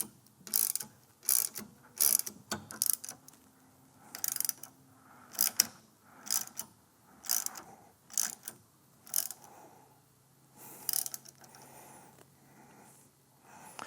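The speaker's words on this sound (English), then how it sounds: "7/16 ratchet and start to tighten this bolt down" A 7/16 ratchet clicks in repeated quick bursts while tightening a bolt to compress a nutsert during a 2nd Gen Tacoma dual battery install, close and crisp with short pauses between strokes.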